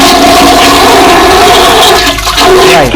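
A toilet flushes loudly and close by, a full roaring rush of water that churns steadily and then begins to drain away near the end.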